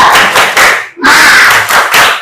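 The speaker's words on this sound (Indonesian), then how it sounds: "Coba kita tepuk semangat dulu." A classroom of students claps together in loud, rhythmic bursts of group "tepuk semangat" clapping, close and energetic, with a short pause midway.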